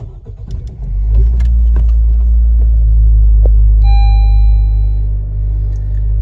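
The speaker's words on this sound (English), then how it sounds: "we're going to start it up" A Honda car engine is started after a battery change: a brief cranking burst, then a loud, steady low idle rumble that holds for several seconds, with a thin electronic chime tone appearing partway through.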